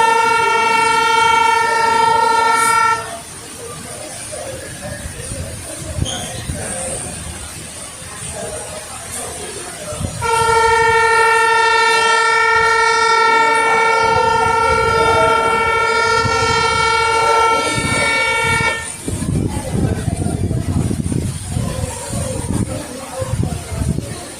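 A loud, steady ferry horn blast sounds twice, each lasting several seconds, over background rumble and crowd noise; between the blasts there is low ambient chatter.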